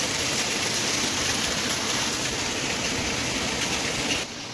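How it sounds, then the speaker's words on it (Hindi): Heavy rain pours outside a house in a steady, dense hiss that stays loud and unbroken throughout, with no voices. "तो दोस्तों देखो, इस तरह से बारिश आ रखी है"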